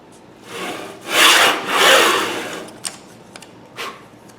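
A saw cuts through wood for jewelry box drawer dividers: two loud sustained rasping strokes up close, followed by a few faint clicks and light handling noises.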